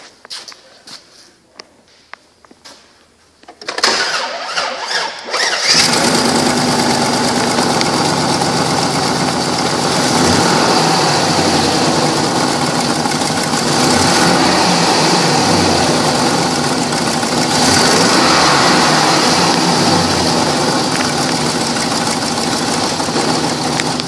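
A 2003 Chevrolet Silverado 2500HD pickup engine cranks briefly, catches and settles into a steady, even idle that runs on alone and close by.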